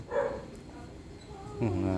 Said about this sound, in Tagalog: maingay dito yung aso namin